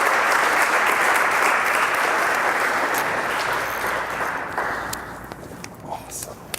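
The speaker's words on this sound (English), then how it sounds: "Give him a big round of applause." A crowd at a Startup Grind Phoenix event applauds warmly to welcome speaker Nathan Mortensen, a dense clapping that holds steady and then thins out into scattered claps.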